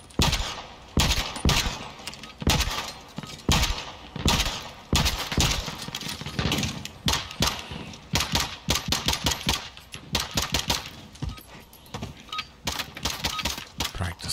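Rapid gunfire from the Warzone battle royale game, dense bursts of automatic shots and single cracks firing almost continuously, loud and close throughout.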